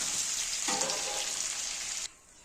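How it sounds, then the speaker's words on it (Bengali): Potato and pointed gourd pieces fry in hot oil, a dense, close sizzle that holds steady, swells briefly with fresh bubbling, then drops off abruptly near the end. "এবার আমি আলু পটলগুলো সব ভেজে নেব"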